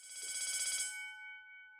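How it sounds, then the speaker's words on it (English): A single bright bell ring sounds close and clear, its shimmering tone fading out over about a second. "I can hear a bell ringing"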